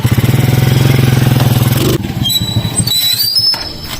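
A motorcycle engine revs loudly up close with a rapid, pulsing throb, then drops off abruptly as music with high tonal notes continues behind.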